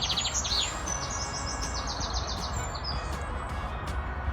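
Garden birds sing outdoors near a very tall tree, with bright chirps and trilled phrases repeating over a steady background hum and no talk.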